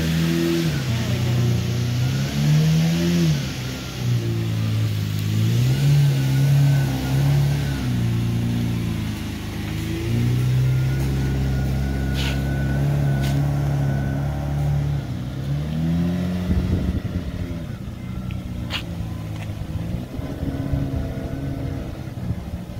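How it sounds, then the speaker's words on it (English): A Lamborghini Murcielago engine revs up and down several times close by, then the car pulls away with a rising, sustained roar that fades slightly. "Let's watch it drive away."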